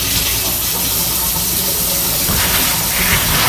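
Hot water gushes steadily from a kitchen tap into a sink, a loud, close, continuous rush with no voices over it.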